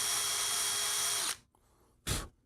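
A close power drill whines steadily as its bit drills through soft material on a sonic levitator project, then stops, followed by a short burst of a second brief spin near the end.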